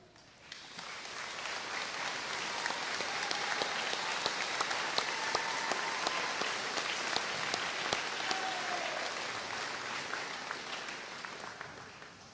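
Audience applause at a 2014 high school graduation ceremony, a sustained crowd of many hands clapping steadily for about twelve seconds, swelling slightly then holding, with faint voices underneath.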